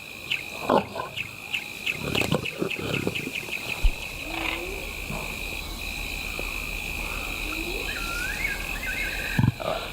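African lion pride gathered at a giraffe kill in the wild, with steady insect chirring and bird calls filling the background, punctuated by a few low grunts and scuffles.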